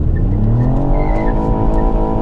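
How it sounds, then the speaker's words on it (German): A 2019 Ford Fiesta ST launches hard with launch control, its engine revving loudly while the tires spin and squeal continuously throughout. "Sehr viel Wheelspin."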